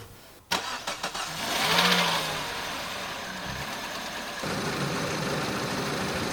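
A Peugeot RCZ engine cranks briefly, catches and rises to a steady close idle, with a slight lift in tone toward the end.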